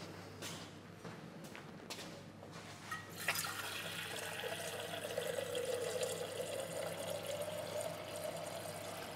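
A portafilter espresso machine being descaled hums steadily while water runs and fills inside it, a continuous gurgling flow with a few clicks near the start.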